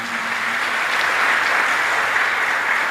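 A church congregation applauding during a sermon, a dense, loud, even wash of clapping that holds for a few seconds.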